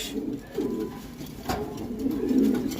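Close, soft throaty cooing from a fancy English pigeon comes in a few low rolling phrases, with no other sound over it.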